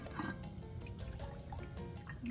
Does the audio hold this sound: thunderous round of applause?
no